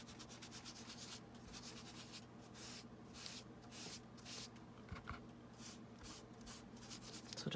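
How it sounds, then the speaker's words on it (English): Color is rubbed off a magazine page in repeated short scrubbing strokes, a faint, close papery rasp coming in uneven bursts against a quiet hum. "So just rub off wherever you want the color off."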